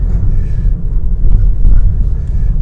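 A car driving along a road on the outskirts of Mérida near Caucel, Yucatán, giving a steady low rumble of engine and tire noise throughout with no voices.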